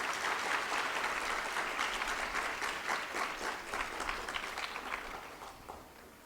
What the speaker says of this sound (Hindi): इस कॉन्फिडेंस के लिए एक जोरदार ताली बजा लो अपने लिए।